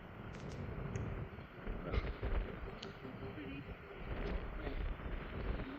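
Strong wind gusts across an exposed overlook at Colorado National Monument, a steady loud rumble with buffeting on the microphone and a faint voice now and then beneath it.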